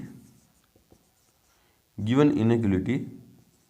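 Pen or pencil scratching out a maths answer on paper, quiet and intermittent, followed by someone speaking over it for the second half.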